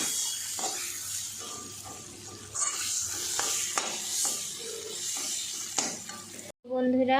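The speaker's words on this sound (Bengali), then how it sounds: "এখন আমি এগুলোকে ভাজতে থাকবো পুরা দমে। ভাজতে ভাজতে লাল করে নেব।" Dried shutki fish frying in oil with steady sizzling and frequent scraping stirs and clinks of a utensil against the pan, close up, cutting off abruptly near the end before a brief different sound.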